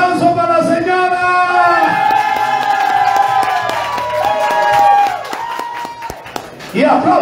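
Crowd at a festival show in Chile cheering and clapping, with shouts and whoops rising over lively background music while a voice carries on in between; applause swells loud and continuous, then dips before picking up again.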